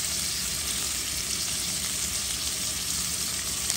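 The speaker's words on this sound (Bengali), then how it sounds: "ভেজে নিচ্ছি" Ingredients for a dried mola fish curry with brinjal and potato frying in a pan, a thick, steady, close-up sizzle that holds at an even level throughout without breaks or speech.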